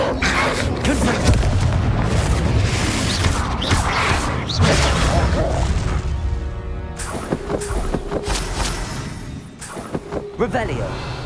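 A Confringo blasting spell bursting in the Hogwarts Legacy video game, heavy booming explosions and crashing impacts close up amid dense game sound, followed by creaking, clattering debris and further sharp blasts.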